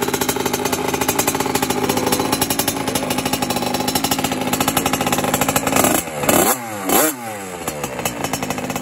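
A small 65cc motocross dirt bike engine idles and blips close by, its exhaust rattling in a fast, choppy pulse before a couple of sharp revs near the end.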